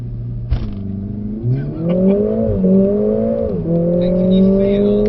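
Mercedes-AMG CLA45 S accelerating hard around a race track, a loud engine note climbing steadily through the revs with sharp shifts from an aggressive gearbox, heard from inside the car over several seconds.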